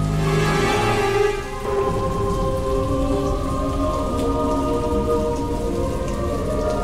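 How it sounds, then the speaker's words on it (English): Heavy rain pours steadily outside on a terrace, a dense, loud hiss of drops hitting surfaces, with a deep rumble of thunder early on and no voices. "It's only raining there."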